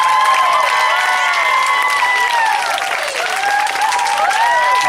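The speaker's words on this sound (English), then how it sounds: "can we give one more round of applause to all the performers tonight?" A school concert audience gives loud, sustained applause for the performers, with dense clapping and some cheers and whistles rising over the crowd throughout.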